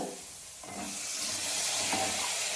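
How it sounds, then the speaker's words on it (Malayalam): Masala sizzles softly in a pan on a gas stove set to a low flame while a spoon stirs it. The quiet, steady hiss swells slightly as it is stirred, with no voices. "പച്ചമണം പോകുന്നവരെ നന്നായിട്ടൊന്ന് ഇളക്കി കൊടുക്കുക"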